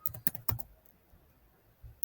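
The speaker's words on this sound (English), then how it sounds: "you can type more intricate headlines here to generate the headlines relevant to the ones you wanted to hear" Computer keyboard keys clack in a quick burst of a few strokes, then fall quiet before one or two more taps near the end, close and soft with no speech.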